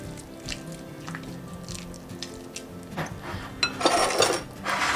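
Softened butter is being stirred into mashed sweet potato with chopped pecans in a bowl, giving soft wet squishing and occasional utensil clinks against the bowl, growing louder toward the end.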